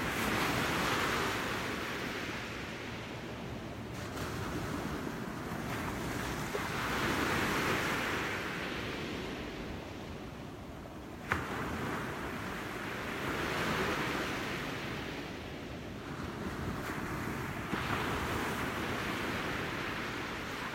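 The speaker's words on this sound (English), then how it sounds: "enjoy the sound of the waves, and this beautiful view." Ocean surf breaking on a beach at sunrise, slow swells of rushing water rising and falling in long cycles, steady and fairly close with some wind noise and no voices.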